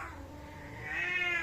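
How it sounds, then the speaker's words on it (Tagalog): A cat meows in a rising, drawn-out call that climbs toward a higher pitch at the end, close and clear, with faint background noise. "Meow, meow."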